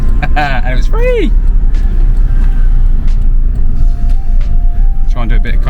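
A free JDM import project car driving through a town centre, its engine a steady low rumble with road noise filling the cabin, while short voiced sounds and tonal squeaks come and go over it.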